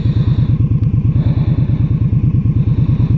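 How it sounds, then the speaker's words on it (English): A 2016 Indian Scout motorcycle engine rumbles steadily and loudly nearby while riding, with a rapid, even pulsing throb and no speech. "that engine braking is no joke"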